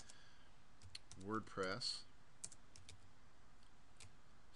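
Computer keyboard typing while entering a move command during a CentOS web server setup, a few soft clicks scattered under a man's nearby speech.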